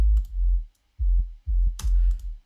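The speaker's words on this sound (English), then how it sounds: "first we have just a sub bass" A synthesized sub bass plays alone as a few deep, sustained notes in short separated phrases, with a brief click and a noisy burst near the end.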